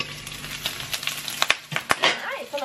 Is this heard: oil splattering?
yes